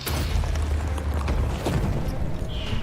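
Missiles explode in Total War: Warhammer during a Wood Elf battle, producing deep low booms and scattered impacts amid a busy battlefield din.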